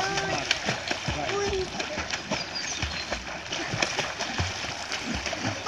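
A child in a swimming lesson kicks hard in a pool, producing continuous close splashing and churning water, with a voice talking over it.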